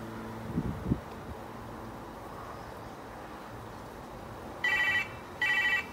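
A telephone rings in two bursts of electronic trilling near the end, each about half a second long and fairly loud, after a quiet stretch that opens with a few low thumps.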